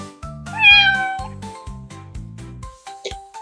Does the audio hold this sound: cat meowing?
yes